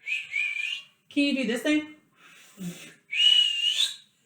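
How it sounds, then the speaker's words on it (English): A person whistles several short tonal phrases, some wavering and rising, separated by brief pauses, with a bit of talk between them. "This is my whistle."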